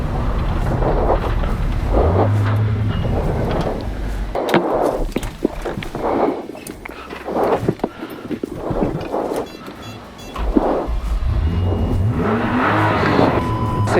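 A rally car at Rally Sarma 2024 drives off, its engine revving and accelerating under heavy wind buffeting on the microphone, with the engine note rising and falling over about fourteen seconds.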